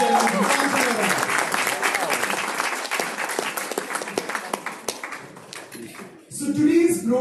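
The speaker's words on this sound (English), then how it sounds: "Round of applause, ladies and gentlemen." Corporate Women's Day event audience applauding, a dense round of clapping that thins into scattered individual claps before a voice starts speaking at the end.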